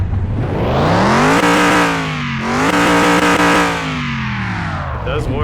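A Ford Bronco police SUV engine in Car Mechanic Simulator 2021 starts and revs loudly, its pitch climbing, dipping and climbing again in harsh, distorted swells before tailing off, close and alone.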